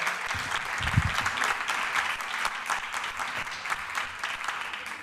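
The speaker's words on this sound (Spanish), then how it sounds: "Paqui Prieto, que es esta señora tan elegante, a la cual hay que darle un aplauso" Auditorium audience at a carnival opening lecture in Málaga applauds Paqui Prieto with steady, dense clapping throughout, without voices.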